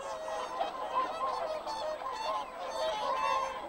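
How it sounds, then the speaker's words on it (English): A flock of whooper swans gives honking, bugle-like calls that overlap continuously at a moderate distance, with no one speaking. "Hooper swans breed in the Arctic."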